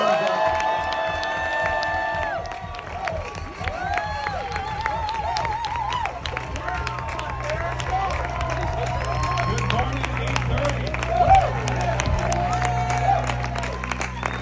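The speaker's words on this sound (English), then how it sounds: "So this is your one chance to give them all a round of applause." Church congregation applauding and cheering at a morning service, a steady crowd of clapping and whoops with background chatter, continuous and fairly loud throughout.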